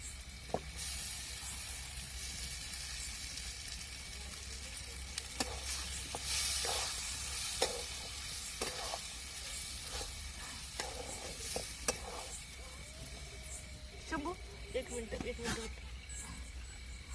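Dal stirred into sautéed green chillies in a hot pan, giving a steady close sizzle with repeated scraping stir strokes and clinks throughout.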